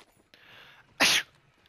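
One sharp, loud sneeze from a person, preceded by a soft breathy intake.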